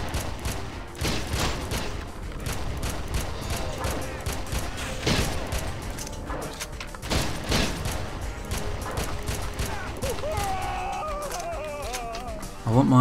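An assault rifle fires in the Red Faction game, rapid repeated shots cracking in clusters over a steady rumble for several seconds, with a voice speaking at times and tonal game sounds near the end.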